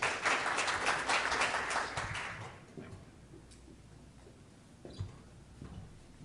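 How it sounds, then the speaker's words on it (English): Audience applause at a media sales business conference, a full burst of clapping for the first two seconds that thins and fades into scattered claps and quiet room noise. "Let's give him a round of applause, please."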